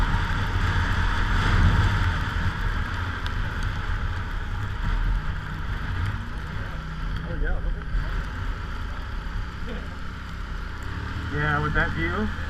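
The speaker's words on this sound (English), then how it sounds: "Man, that's a really bitter wind." Bitter cold winter wind buffeting outdoors on a snowy Cape Breton ATV rally, a loud, continuous roar with gusty rumbling close to the microphone, and voices talking under it.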